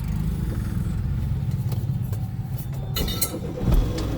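A car engine idles and turns over during a driving lesson, a steady close mid-pitched rumble running throughout with a brief louder surge near the end.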